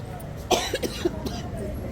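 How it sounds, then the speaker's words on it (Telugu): A woman coughs in a couple of short bursts near the mic in an indoor setting, with some background voices and room noise around her. "మా మమ్మీకి ఇట్లా దగ్గులు వస్తూ ఉంటాయి మధ్యలో మధ్యలో"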